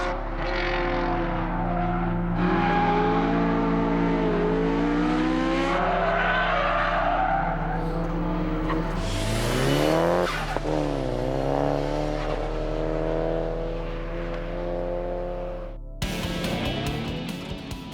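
Race car on a Gran Turismo test track sliding and skidding at speed, engine roaring with rising and falling revs and tire squeal, loud and continuous, ending in an abrupt change of sound.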